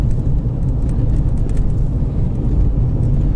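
A 2020 Lada Granta with an automatic gearbox driving on fresh snow in fourth gear at about 1500 rpm and 60 km/h, giving a steady low engine hum with road and wind rumble, loud and continuous.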